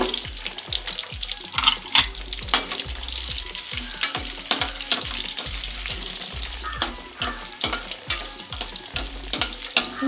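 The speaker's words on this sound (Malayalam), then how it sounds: "ഇനി വെളുത്തുള്ളി ഇട്ട് കൊടുക്കാം. ചെറിയുള്ളി," Garlic and shallots sizzle and fry in hot oil for a Kerala sambar, a steady close crackle broken by frequent sharp clicks and scrapes of a spoon stirring the pan.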